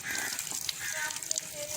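Water gushes into a container being filled for small-scale fish keeping, a soft, steady rushing stream heard fairly quietly and alone.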